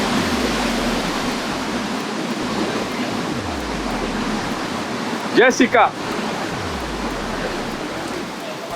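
Steady broadband rush of a river flowing below a waterfall in Georgia, a constant wash heard from a lookout above, with a voice briefly calling out over it.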